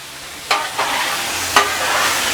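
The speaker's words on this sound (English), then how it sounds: "let's finish moving these peas and these carrots off to the side with the protein" Peas and carrots for fried rice sizzle steadily in a frying pan while being pushed aside, with a few scraping stirs over the constant hiss.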